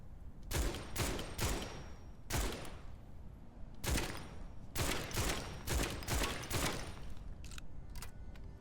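Shotgun blasts in the video game Witchfire, about a dozen loud sharp booms fired at an uneven rapid pace, each with a brief crackling tail, close and alone without talk.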